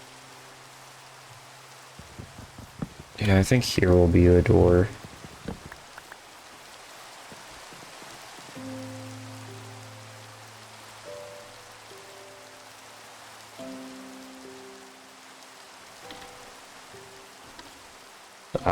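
Steady hiss of rain in Minecraft runs through the whole stretch, fairly soft, with someone talking briefly over it and soft musical tones in the background.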